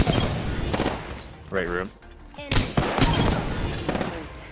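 Gunfire in Apex Legends, with several sharp bursts and rapid shots cutting through an ongoing match, while players talk over the action.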